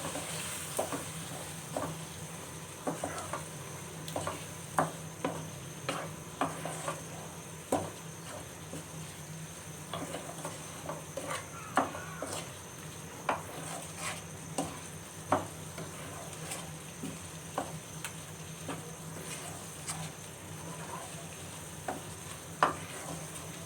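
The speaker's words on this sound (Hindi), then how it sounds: "गोभी हमने ऐड कर दी है, और जितने भी मसाला जात हैं वो भी ऐड कर देते हैं, और अच्छी तरह से मिक्स कर लेते हैं" Cauliflower being stirred with spices in a frying pan for a curry, with soft intermittent scraping and clicks of the spoon over a faint, steady sizzle, fairly quiet and without talk.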